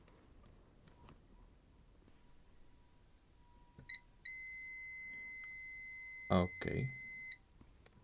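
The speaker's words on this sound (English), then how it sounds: "Multimeter in diode mode." A multimeter set to diode test mode gives one steady, continuous electronic beep lasting about three seconds, heard close by in a quiet workshop while a faulty electric screwdriver diode is checked, with a brief spoken word and some handling noises.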